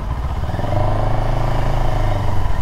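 CFMOTO 700CL-X Sport motorcycle engine running steadily close by, a continuous low throbbing hum with a slight rise in intensity partway through, no voices.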